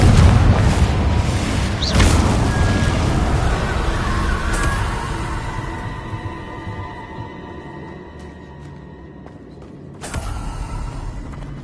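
A Confringo blasting spell goes off in the Hogwarts Legacy video game, loud booming blasts with rumbling debris and creaking, a second sharp burst near the end, no talk.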